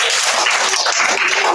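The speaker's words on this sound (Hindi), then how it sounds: "तालियां दोबारा फिर होनी चाहिए।" Applause for a student at a school prize-giving, a short steady patter of clapping from a group, close and even throughout.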